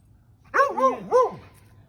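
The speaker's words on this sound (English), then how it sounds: "She just barks." An excited dog lets out two quick, close barks with a whiny, yipping edge, loud against a quiet room.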